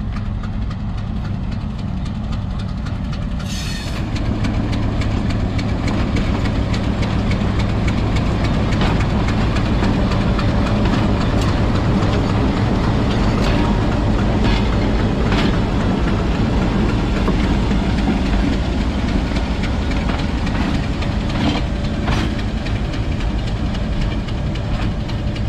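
Diesel locomotive shunting at Mari Indus railway station: a heavy engine idles with a loud low rumble and knocking, climbing after a brief clank near the start, with scattered metallic clicks and squeals from the rolling stock.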